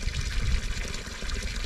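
Spring water flowing out of the ground along a waterfall trail in Covaleda, Soria, gives a steady, continuous close trickle and gush with no pauses.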